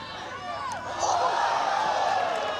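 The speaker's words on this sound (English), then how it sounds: "That'll draw some cheers from the crowd." A crowd at a high school lacrosse game cheers, a broad roar of voices and whoops swelling about a second in and holding loud, with a commentator talking over it.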